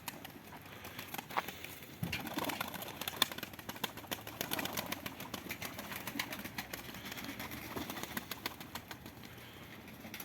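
Konya Arabı pigeons coo and shuffle in a loft, with wing flaps and scratchy movement forming a busy, continuous low-level bed of sound throughout.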